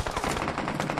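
Rapid bursts of automatic gunfire from the video game PUBG, dense repeated shots in quick rhythm, loud and close.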